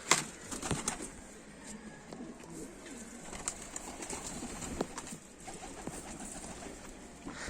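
Escaped pigeons, including a wild pigeon, cooing and fluttering at a distance amid general outdoor noise, with a few sharp clattering taps and rustles throughout.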